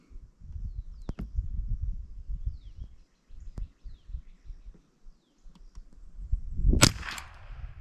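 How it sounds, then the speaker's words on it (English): A rifle fires a single sharp, loud shot at a Peep target outdoors near the end, after quiet low rustling and faint birdsong, the crack trailing off in a short echo. "Oh, first shot was a miss."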